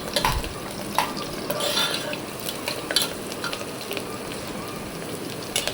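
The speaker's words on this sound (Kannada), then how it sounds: "ಚೆನ್ನಾಗಿ ಕುದೀತಾ ಇದೆ." Onion masala cooking in a pan, a steady close sizzle and bubbling with scattered clinks and scrapes of a utensil stirring against the metal.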